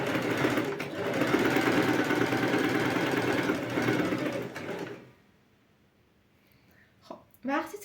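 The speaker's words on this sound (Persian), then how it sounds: "پاتون رو به آرومی روی پدال میذارید و توجه کنید که روی خطوطمون دوخت زده بشه" Sewing machine running steadily for about five seconds as fabric is stitched along marked lines, then stopping, followed by brief quiet handling clicks.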